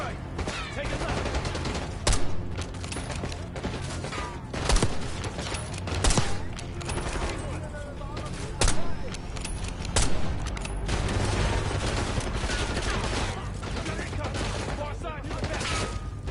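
Sustained gunfire in the Call of Duty: Black Ops 6 campaign, with dense rattling bursts and heavy booming shots running throughout, loud and close, while voices talk over the battle.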